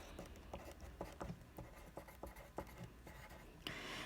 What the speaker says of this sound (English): bear with me as I write this with my beautiful handwriting